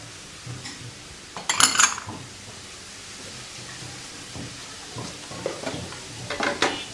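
Spice paste sautéing and being stirred in a pan gives a soft, steady sizzle, with a few louder scraping bursts from the spoon near the start and again toward the end, and no voices.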